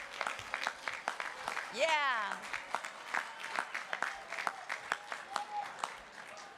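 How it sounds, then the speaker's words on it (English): Graduates at a university commencement applaud their families and loved ones, a broad wash of clapping across the hall with cheers and whoops rising over it and voices calling out through the crowd. "give them a huge round of applause"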